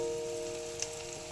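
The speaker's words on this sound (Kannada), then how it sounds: "ಹಿಂಗೆ ಹಾಕಿ ಈರುಳ್ಳಿನ ಫ್ರೈ ಮಾಡ್ತಾ ಇದ್ದೀವಿ" Onions frying in oil in a pan for an Uttar Karnataka badanekayi ennegayi dish sizzle in a steady, close crackle under a faint hum, with one small tap near the middle.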